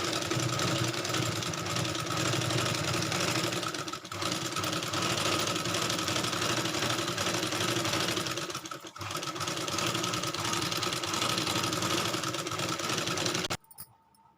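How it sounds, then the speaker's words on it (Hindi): Sewing machine stitching a salwar, a fast continuous mechanical whir running loud and close for most of the clip, with two brief dips before it stops near the end. "अब हम इसमें सिलाई लगाएंगे।"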